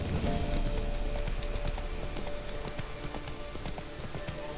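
Roach, Geralt's horse in The Witcher 3: Wild Hunt, gallops with steady rapid hoofbeats throughout, close and fairly loud over a low ambient rumble.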